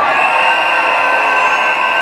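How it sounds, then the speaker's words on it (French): A large crowd at a street demonstration in front of the French Senate, loud continuous cheering and applause with shouts and whoops, close and dense for the whole stretch. "Un tonnerre d'applaudissements pour ceux qui sont là"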